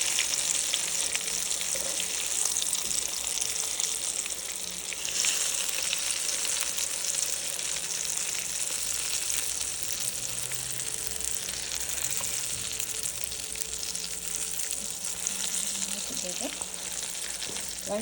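Stuffed brinjal, gutti vankaya, fries in oil in a pan with a steady, dense sizzle and crackle throughout, close and even, with occasional stirring scrapes and no talk.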